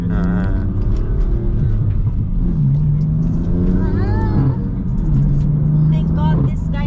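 A car engine idles as it warms up, a steady low rumble running the whole time beneath ongoing conversation between people.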